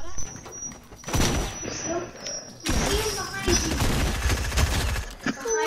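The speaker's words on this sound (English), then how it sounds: "Oh, I'm getting shot at?" Fortnite gunfire crackles in bursts through the whole stretch, loud and busy, with players talking over it and a sharp cluster of shots breaking in midway.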